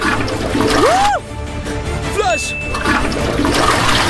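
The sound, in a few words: toilet flushing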